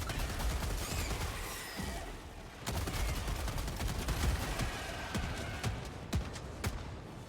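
Rapid autocannon and mixed weapon fire from a Helldivers firefight crackle in dense, overlapping bursts with sharp individual shots, sustained and fairly loud throughout.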